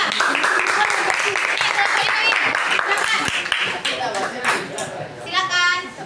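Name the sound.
applause for presenters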